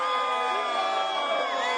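Crowd noise from the stands at a high school football game between the Edison Tigers and the Dinuba Emperors in Dinuba, a faint, steady wash of cheering voices heard at a distance.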